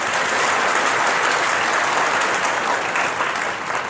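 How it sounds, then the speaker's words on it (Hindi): Dense, sustained clapping from an audience at a spiritual discourse, loud and continuous with no voice on top, fading slightly near the end. "झूठो ताली पीटे"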